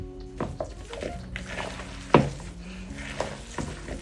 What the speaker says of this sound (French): pétrissez le tout de sorte à ce que le mélange soit homogène